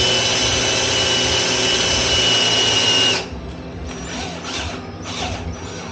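A power drill with an extractor bit works a broken bolt on a Harley Softail Springer motorcycle, giving a steady whine and grind for about three seconds. The tool then stops, and a few faint scrapes and clicks follow.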